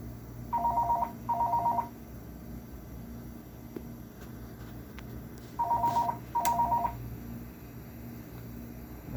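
A telephone rings with an incoming call in a quiet room, two double-pulse rings spaced several seconds apart over a low background hum, with no one speaking.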